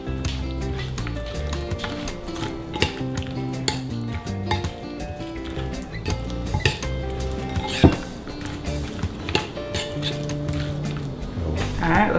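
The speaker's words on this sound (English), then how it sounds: "So we're just going to mix this up." Raw pad thai noodles being tossed with sauce in a container, soft wet squelching and clinks of a utensil against the sides, continuous and close with brief knocks.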